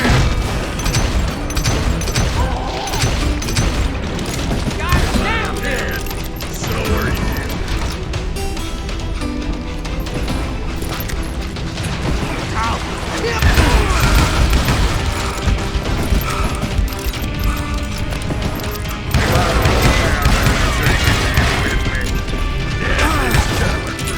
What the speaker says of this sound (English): Bullets were flying at me from every which way.